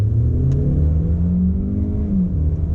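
A 2019 Hyundai Elantra GT in sport mode pulls away from a green light, its engine droning loudly from inside the cabin with a rising, whirring pitch as it accelerates steadily.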